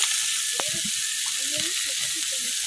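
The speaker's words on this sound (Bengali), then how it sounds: "এখন পেঁয়াজ আর রসুন গুলো খুব ভালোভাবে বাজে নিলাম" Onion and garlic frying in a pan for a village-style mashed fish side dish, a steady close hiss of oil with soft crackles and occasional light stirring scrapes, no talking.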